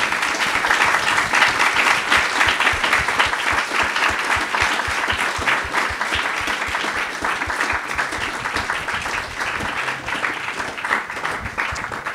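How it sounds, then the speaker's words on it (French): An audience at an evening theatre event on acting bursts into warm, sustained applause, a dense steady wash of many hands clapping at even loudness for several seconds. "je pense qu'on peut commencer par les applaudir très chaudement"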